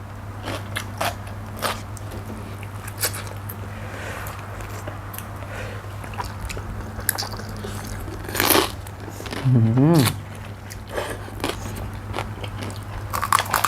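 Crunchy bites into crispy pork crackling eaten alongside spicy papaya salad with pork sausage, several sharp crackly crunches spread through the clip over a steady low hum, with brief talk in between.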